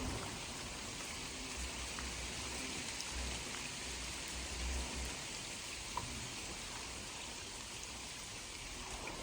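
Steady rain falls during a fishing trip, a constant soft hiss of drops on water and surfaces, fairly faint and even, with no voices.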